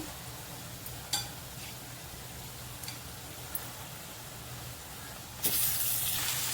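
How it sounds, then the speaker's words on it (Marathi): Marinated chicken pieces drop into a pan of golden-fried onions and oil, with a low steady sizzle broken by a few stirring clacks, then a sudden loud hiss that swells and keeps going. "आता त्याच्यामध्ये आपण हे मॅरिनेट केलेलं चिकनचे पीस टाकूया"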